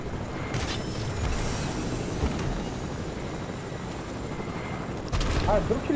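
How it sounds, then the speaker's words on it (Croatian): A helicopter in an online battle royale video game makes a steady rotor drone under scattered gunfire bursts and mechanical clatter, with players talking over the game audio. "drug helikopter li slušam ili?"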